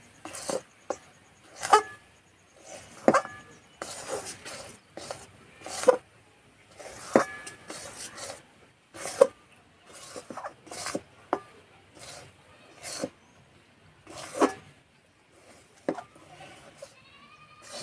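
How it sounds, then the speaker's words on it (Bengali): Semolina and milk cake batter stirred with a spoon in a kadai on a hot stove, giving repeated scraping and rubbing strokes in an uneven rhythm, close and fairly quiet, with occasional faint voices in the background. "এই গরম উনানে কিছুক্ষণ এইভাবে নেড়ে নেবো।"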